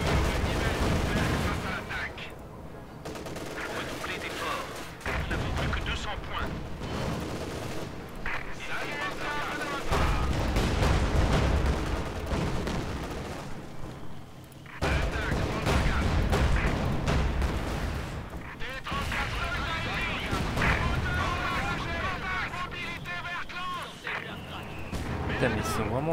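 Company of Heroes 2 battle with anti-tank gun and artillery fire: repeated booming shots and explosions, rumbling and dense, rolling through the scene while a player talks over the gunfire.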